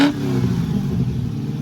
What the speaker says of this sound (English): There's the growl and rumble of the V8.